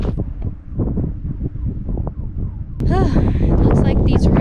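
Gusts of wind buffet a microphone on a hilltop along rolling roads, low rumbling bursts that swell into a strong, steady roar in the second half, with a voice speaking faintly beneath at first.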